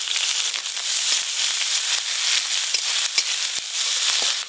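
Chopped onions fry in hot mustard oil with nigella seeds and dried chillies, a loud, steady sizzle with crackling pops and occasional stirring scrapes, alone with no voices.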